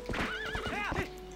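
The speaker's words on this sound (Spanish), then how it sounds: "el movimiento del caballo para echarse para atrás mola bastante" A horse in the video game The Legend of Zelda: Twilight Princess gives a loud, wavering whinny over a short run of hoof clip-clops, with no talk.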